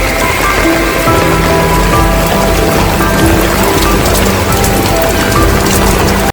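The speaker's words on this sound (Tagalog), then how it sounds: "Grabe lakas ng ulan guys." Heavy rain pours steadily and loudly in a dense continuous wash, close and unbroken throughout, during a high-tide flood rescue.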